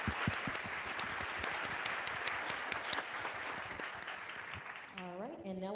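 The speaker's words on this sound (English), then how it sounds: "I do want a round of applause for the flight dynamics team" A room at a NASA briefing on the OSIRIS-REx mission applauds the flight dynamics team with moderate, steady clapping, and a voice begins speaking as it ends.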